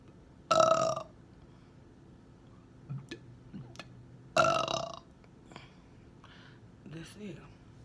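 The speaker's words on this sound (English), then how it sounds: "I'm gonna try to do the burp" Two loud, close burps, each about half a second, forced by swallowing air, separated by quieter mouth noises and soft breathy sounds.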